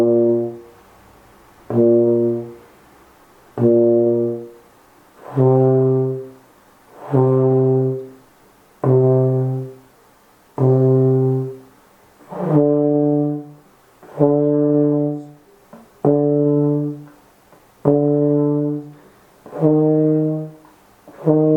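Low brass, a euphonium or tuba, practising soft playing with notes started both with and without the tongue. About ten sustained, mellow, evenly spaced notes sound one after another, moderately loud and close, with no other sound.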